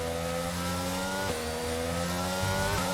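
A Formula 1 car engine screams at high revs through a qualifying lap in the F1 22 video game, a steady sustained whine with a brief dip as it shifts gear, then climbing again.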